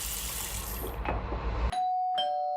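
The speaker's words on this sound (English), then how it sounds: "Her doorbell rings, despite it being 1:25 in the morning." Two chiming doorbell tones ring out and linger after a rushing background noise cuts off abruptly.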